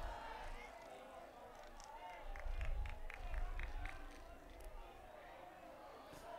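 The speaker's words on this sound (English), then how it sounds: "And you can hear the Trojan student section chanting" Trojan student section chanting and cheering in the stands at a high school football game, a distant, rhythmic crowd swell rising and falling beneath a commentator talking.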